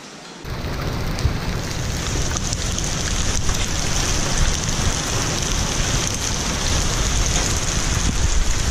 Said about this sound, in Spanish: Sí, así es, está cayendo granizo, está cayendo bastante piedra.